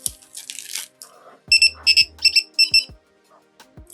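A Uniden DFR1 radar detector sounds its alert as a sequence of sharp electronic beeps and chirps, loud and close, in brief repeating bursts.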